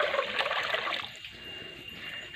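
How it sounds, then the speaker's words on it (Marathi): About one and a half litres of water pours into a pot on a wood-fired stove for porridge, a soft splashing stream for about a second that trails off into a faint trickle. "त्या पातेल्यामध्ये मी ना दीड लिटर पाणी टाकून घेणार आहे"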